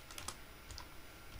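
Soft, quick keystrokes on a computer keyboard, a handful of light clicks close by in a quiet room.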